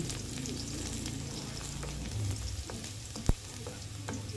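Garlic frying in a pan, a steady close sizzle with light spatula scrapes and one sharp knock near the end, fairly quiet, with no talk.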